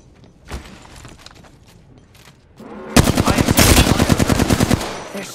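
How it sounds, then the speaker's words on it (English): Automatic gunfire in Apex Legends opens with scattered shots, then swells into a loud, dense burst of rapid rounds in steady rhythm over the final seconds, with faint in-game sounds underneath. "They're shooting at me."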